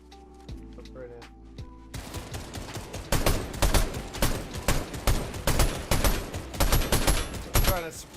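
Suppressing gunfire in a video game: after a quieter start, rapid bursts of shots crackle steadily for several seconds, loud and dense, with voices talking underneath.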